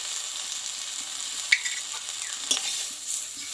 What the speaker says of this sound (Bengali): দিয়ে শাকটা একটু ভালোভাবে আমি নাড়াচাড়া করে নেবো